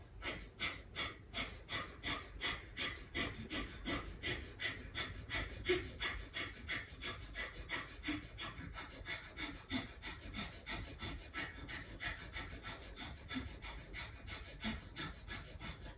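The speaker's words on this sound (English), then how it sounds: "we'll start those quick exhales through the nose" Quick, forceful exhales through the nose during energising yoga breathwork repeat in a steady, fast rhythm for the whole stretch, close and unaccompanied by talk.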